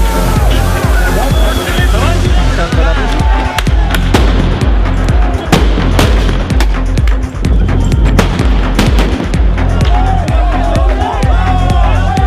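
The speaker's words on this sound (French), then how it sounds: "la valse des grenades lacrymogènes et tirs de flashball" Tear gas grenades and flash-ball launcher shots at a street protest in France, loud sharp pops and bangs repeating amid crowd noise and shouting voices throughout.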